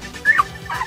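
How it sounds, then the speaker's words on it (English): A dog in the video game Paper Mario: The Thousand-Year Door gives two quick, high yipping barks in about a second, fairly close and over soft game background sound. "Oh, dog barking."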